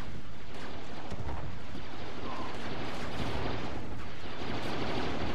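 Mortar launcher fire and explosions in the game Star Wars Battlefront, heard as a dense wash of booming blasts and rumbling gunfire that stays loud and continuous throughout.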